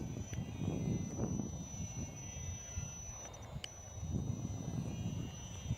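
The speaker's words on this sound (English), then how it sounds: "I didn't know your plane was turning like that." A Sport Cub S2 RC model plane flies on a very windy day, its faint engine hum mostly buried under heavy, gusting wind rumble outdoors.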